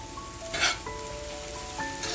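Sausage and vegetables for a shrimp and sausage gumbo sizzling steadily in a pan, a soft continuous fry with a brief brighter burst of spitting partway through and faint tonal hum in the room.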